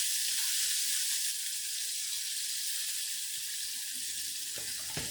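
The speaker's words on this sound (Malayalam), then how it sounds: "അപ്പോൾ അത് അവിടെ നിന്ന് ഒരു മീഡിയം ഫ്ലെയിമിൽ ഇങ്ങനെ പതുക്കാനെ അതൊന്ന് ഷാലോ ഫ്രൈ ആവട്ടെ" Marinated chicken shallow frying over a medium flame, a dense, even sizzle that holds steady with no voices, then a brief knock or clink just before the end.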